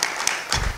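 Short burst of audience applause at a public gathering, dense crowd clapping at steady volume with no voices.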